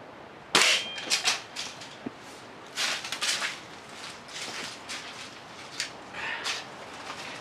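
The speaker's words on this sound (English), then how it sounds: "This would have been nicer with a 22 caliber pellet gun, but this is the only one I've got access to." An air pellet gun, .177 caliber, fires at a quadcopter: one sharp, close crack followed by several fainter pops and impacts spread across a quiet outdoor background.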